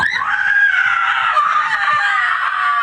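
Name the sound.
loud scream in a horror film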